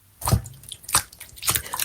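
Peter Rabbit leaps into a garden bucket full of cold, murky water with floating grass and weeds, giving a wet plop followed by two softer dripping splashes, close and isolated.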